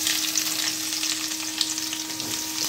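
Onions and curry leaves fry with mustard seeds and chana dal for samba rava upma, making a dense, continuous close sizzle with crackling texture and no talk.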